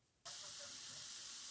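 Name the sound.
onions and garlic sauteing in a pan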